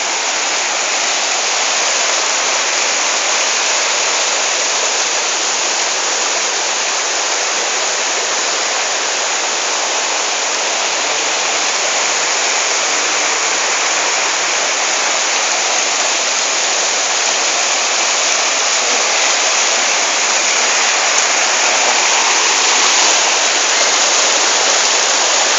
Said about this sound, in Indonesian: Sekarang ini kita menuju ke kawasan sungai.